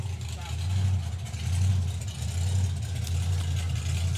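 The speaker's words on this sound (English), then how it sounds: "Kim Hodson coming around the corner with this insane VW Corrado supercharged" Supercharged VW Corrado drag car rounds a corner at a drag strip, its engine droning and pulsing in repeated low surges under a commentator's talk.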